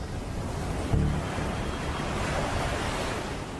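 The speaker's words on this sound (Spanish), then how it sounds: "Vimos como el agua giraba y giraba sin cesar, haciendo un ruido atronador al romper en las rocas" Whirlpool water crashing on rocks in a narrow strait: a dense, continuous roar of churning surf, loud and unbroken, with a slight surge near the start.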